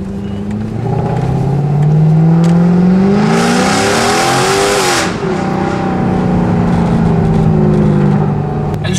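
A Mercedes C63 AMG exhaust revs hard and loud up close, the engine note climbing and falling in a sweeping rise, with a burst of raspy crackle at the peak before settling back to a throbbing idle.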